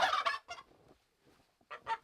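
Farm turkeys gobble in loud, rapid bursts close by, a brief quiet gap, then another rattling gobble at the end.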